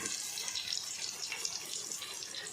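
Pieces of fish drop into a pan of fried onion and tomato for Nellore fish curry, giving a steady close sizzle and hiss that lasts throughout, with no voices.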